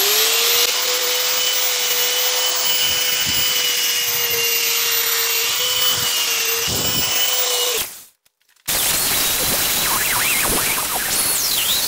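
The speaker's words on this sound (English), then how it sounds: "you keep moving your grinding implement here" A grinder works the jaw face of a steel leghold trap, giving a loud, steady whine with scraping under it. The whine cuts out briefly near the end, then harsher grinding noise returns.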